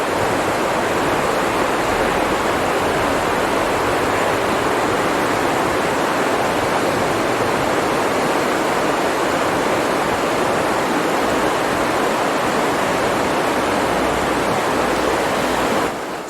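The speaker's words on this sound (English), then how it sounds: "you may be able to hear the beautiful sound of the river here." The River Tilt rushes through woodland in the Scottish Highlands as a steady, dense roar of flowing water, constant and fairly loud throughout with no other sounds.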